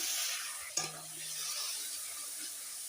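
Water poured into garlic and chili powder frying in a pan gives one sudden sharp hiss, which settles into a soft, quiet sizzle with no talking.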